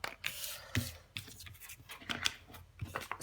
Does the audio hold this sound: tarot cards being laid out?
yes